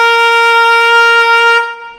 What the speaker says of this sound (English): So going all the way in, it sounds like this.